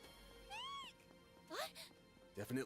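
A pet cat that had been sleeping on a PlayStation meows twice, the first a clear drawn-out meow and the second shorter and rising, with someone speaking briefly near the end.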